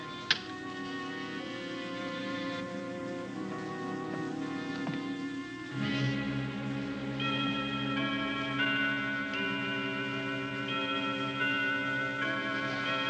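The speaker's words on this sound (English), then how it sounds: "That clock hasn't struck the hour in the last 10 years" An old clock ticks steadily through a long stretch, a soft, even rhythm set against a quiet room with faint tonal background sounds and no talking.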